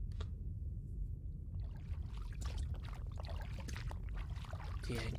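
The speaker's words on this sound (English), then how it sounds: "A splashing sound." Watery splashing and trickling from the visual novel game Tsukihime, as feet wade through a sea of blood; a steady, moderately loud churning wash with irregular bursts of splashes throughout, no voices.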